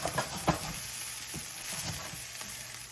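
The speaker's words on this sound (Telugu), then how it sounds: "ఇప్పుడు ఇంకొకసారి మిక్స్ చేసుకొని ఆఫ్ చేసేసుకోండి." Egg fried rice with a squeeze of lemon is tossed and stirred in a hot pan, giving a steady close sizzle broken by a few sharp scraping strokes, with no talking.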